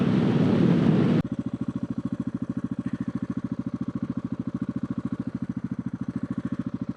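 A Husqvarna 701 Supermoto single-cylinder motorcycle rumbles in a deep, evenly pulsing idle-like throb, close and loud, after a second of roaring wind noise that cuts off suddenly; no voices.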